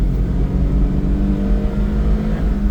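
Mitsubishi 4x4 truck engine pulling hard in third gear on a West Virginia trail, a close, loud, steady growl with a slight rising pitch and no talk over it.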